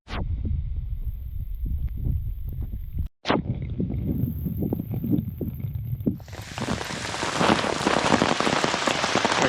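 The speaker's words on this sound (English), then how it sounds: "I don't have to worry too much about the rain" Rain patters on surfaces around a person walking outdoors through the old walled city of Intramuros in Manila, first as scattered close drops and taps, then swelling into a steady, dense hiss of heavier rainfall.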